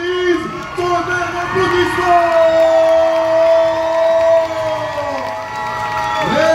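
An audience at a K-pop dance show cheers, whoops and shouts loudly and continuously, with high voices and a clear voice calling over the crowd noise.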